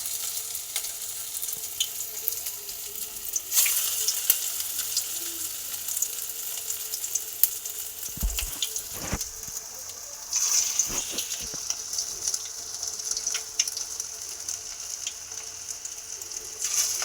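Small prawn fritters frying in hot oil over medium heat, a bright constant sizzle throughout, with a few clanks and bumps partway through and no talking.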